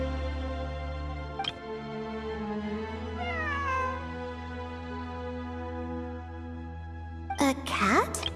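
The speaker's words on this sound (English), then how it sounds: "it really is a cat." A cat in the video game Genshin Impact meows several times, with clear, drawn-out cries over a steady low hum, plus a short tinkle near the start and a sharper burst at the end.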